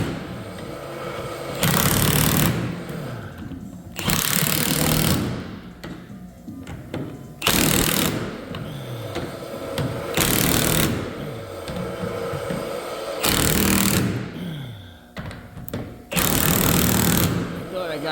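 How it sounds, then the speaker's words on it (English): An impact gun tightening nuts during loft construction in a building fires in repeated loud hammering bursts of a second or two, separated by short pauses, with voices talking between them. "we'll just take the gun, tighten these down."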